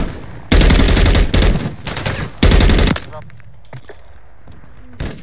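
Loud bursts of machine gun fire in Call of Duty MW3 Invasion Juggernaut mode, three sustained volleys in quick succession followed by scattered quieter game sounds and a final short shot.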